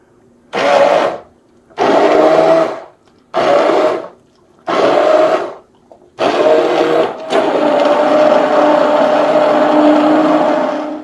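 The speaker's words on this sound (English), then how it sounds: "I'm going to use an immersion blender." An immersion blender blends tomato soup in four short bursts, then runs steadily for several seconds, loud and close.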